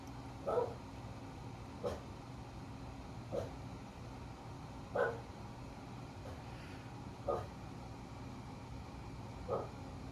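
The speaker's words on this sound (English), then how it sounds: "The dog is barking." Indoor dog barking in single, evenly spaced barks, about six in ten seconds, fairly distant and moderately loud over a low steady hum.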